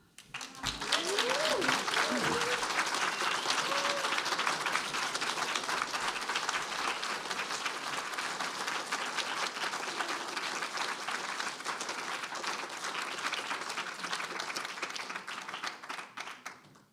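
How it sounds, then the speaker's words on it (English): Dense, sustained applause from a large audience, steady and loud for the whole stretch, with a few faint voices and a whistle early on. "Let's give some more applause."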